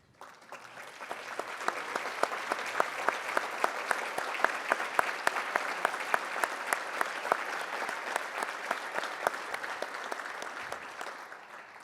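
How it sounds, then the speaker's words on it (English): An audience at a university scholarship event applauds members of a legacy giving society, steady dense clapping from many hands that builds quickly and holds for about twelve seconds without speech. "please stand so we can give you a round of applause"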